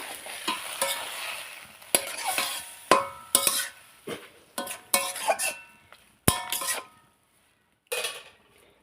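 Lapa greens fry in a pan with repeated scraping stirs, giving bursts of sizzle and clattering utensil strokes separated by short quiet gaps, heard up close without speech.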